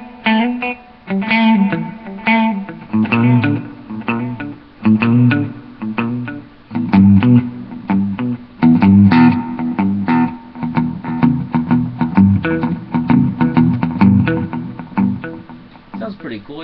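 Electric guitar played through a Marshall MG 30 CFX amp with its delay effect on, each loud, distorted note followed by rhythmic echoing repeats that keep the sound dense and continuous.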